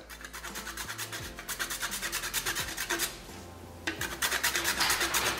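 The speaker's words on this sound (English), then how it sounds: "I'm going to take the zest." A frozen lemon is zested against a grater, producing close, continuous rhythmic rasping strokes that scrape back and forth steadily with a brief lighter stretch midway.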